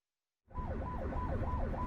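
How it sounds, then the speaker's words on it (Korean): After a brief silence, an ambulance siren on the road starts wailing in a regular rising-and-falling cycle, moderately loud and steady, with traffic rumble underneath. "구급차가 사이렌을 울리며 도로를 달립니다."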